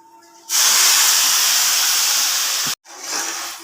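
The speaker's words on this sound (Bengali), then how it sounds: "এই যে ফুটানো জলটা এখানটা আমি এখন ঢেলে দিব" Boiling water poured into a pot of cooked rice: a loud, steady hissing rush starts abruptly, runs for about two seconds, cuts off sharply, then gives way to a softer lingering hiss.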